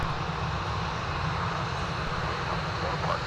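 An airliner taking off from runway 17 at Minneapolis–Saint Paul airport gives a steady, loud engine roar with heavy low rumble that holds evenly throughout, with no clear voices over it.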